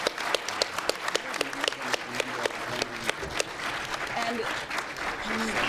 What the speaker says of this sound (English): a warm round of applause for our 3 panelists